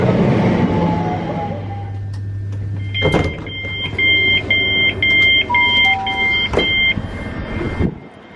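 A train on the Thames Valley railway arrives, with a low rumble fading as it slows, then a loud hiss and door warning beeps repeating for several seconds before a final clunk.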